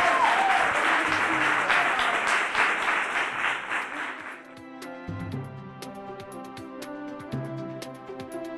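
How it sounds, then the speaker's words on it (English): Audience applause fills an award ceremony for seventh-grade poetry contest winners, a dense, steady burst of clapping that tapers off midway into a quieter, sparser room. "So please give them a round of applause."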